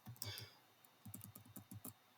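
Keys clatter on a computer keyboard in a quiet room, a quick burst of clicks near the start followed by a steadier run of individual keystrokes, light and close.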